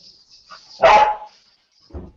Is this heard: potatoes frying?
no